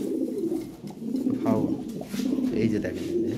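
Red Lahori pigeons, a top-quality pair, coo in soft low murmurs close by, with a voice talking over and between the calls.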